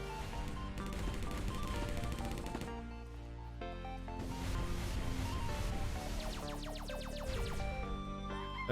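Rapid gunfire from the video game Necrosmith, dense overlapping bursts of repeated shots running throughout under layered game music and effects, steady and loud.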